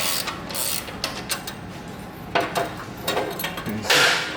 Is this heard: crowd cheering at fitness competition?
no